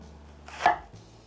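A knife cuts through an onion on a board in one crisp, close chop, a single short crunching thud against quiet surroundings.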